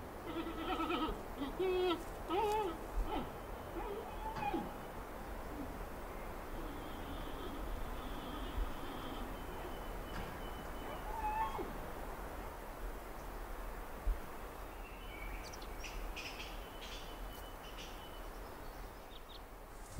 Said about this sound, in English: the sound of loud bleating and chirping raises hopes of a chance to get close enough to study